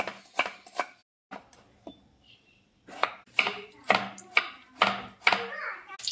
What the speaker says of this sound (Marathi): कोथिंबीर कापून घेते